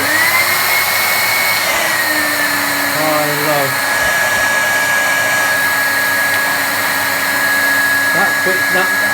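A Henry Hoover vacuum cleaner runs after a power switch repair, giving a loud, steady whine and roar that holds throughout with a brief pitch shift near the start.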